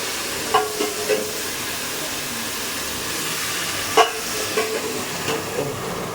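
Heated water poured into a cooking pot of vegetables bursts into a loud, continuous sizzling hiss, broken by a few sharp clinks of metal against the pot.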